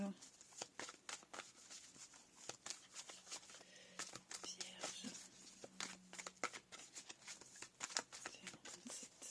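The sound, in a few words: tarot cards being cut and shuffled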